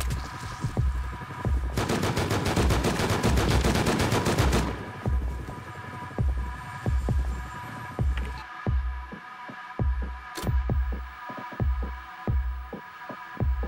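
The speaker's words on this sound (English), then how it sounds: "Nope, there's shooting somebody out there." Gunfire from someone shooting outside in a video game: a dense burst of rapid automatic shots rattles for a couple of seconds, set against a steady low throbbing pulse and hum that continues alone afterward.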